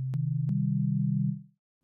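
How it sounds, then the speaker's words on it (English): Pure sine wave tone from a Roland Zenology software synthesizer, a single steady low note held for about a second and a half with soft clicks at its start, then fading out, heard alone. "sine wave."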